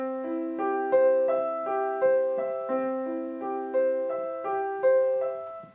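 Solo piano playing the first two measures of a beginner's Bach piece, a steady stream of clear, close notes in an even rhythm with a bass line beneath, with no voices.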